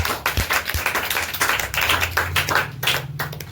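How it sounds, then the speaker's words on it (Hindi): Loud applause at a Class 10 success celebration and topper awards ceremony, many hands clapping in brisk, uneven bursts close by, with a low musical tone underneath. "एक बार जोरदार तालियां हो जाए।"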